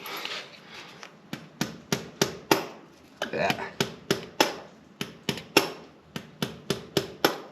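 Sharp, regular hammer blows strike the wheel of a John Deere 1025R compact tractor while Bro-Tek 1.4-inch wheel spacers are fitted, close and loud in a steady rhythm of about two per second with one short pause and a brief word spoken.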